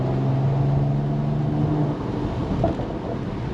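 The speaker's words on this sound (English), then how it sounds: "I think the exhaust could be a little bit louder." A Mercedes-Benz E53 AMG, a mild-hybrid model with an electric motor, driving along with its exhaust as a steady low rumble and drone that eases slightly partway through.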